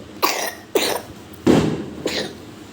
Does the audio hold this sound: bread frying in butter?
no